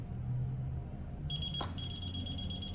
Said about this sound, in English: you get 3 beeps and then 10 beeps back.